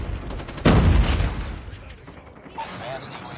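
A brief burst of gunfire from a shooter game weapon, a loud punchy volley of shots followed by a fading tail and faint mechanical clicks, with game voice audio in the background.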